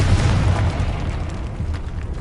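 A Confringo blasting spell going off in Hogwarts Legacy inside a tomb, a heavy rumbling burst that booms at the start and then trails off into a low, fading roar.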